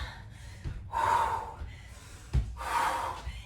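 Breathing during a kettlebell core and strength workout: two long, forceful breaths with a sharp intake between them, close-up and audible on their own.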